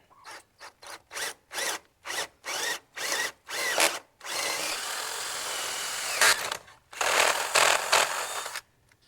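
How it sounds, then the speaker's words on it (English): A power drill whirs loudly in short repeated bursts, then runs in longer sustained stretches as it bores rope holes in a hoop chicken coop, close by. "we're ready to drill our holes for our rope"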